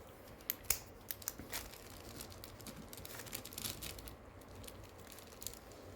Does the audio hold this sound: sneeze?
no